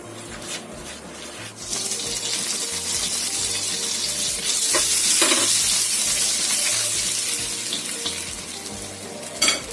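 Garlic and ginger sizzle steadily in hot butter in a pan, with occasional stirring scrapes and no talking.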